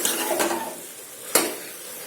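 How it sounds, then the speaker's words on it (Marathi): Ridge gourd pieces are stirred into a spice masala in a pan: a close, hissing sizzle with two sharp scraping clinks of a spoon against metal, no voices. "आता यांना छान मसाल्यामध्ये मिक्स करून घेऊ"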